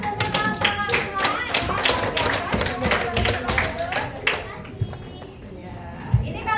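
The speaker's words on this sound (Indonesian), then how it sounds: "Kita kasih aplaus untuk kelompok semua." A classroom of students applauds the student groups, with a sustained burst of many hands clapping at close range that thins out toward the end.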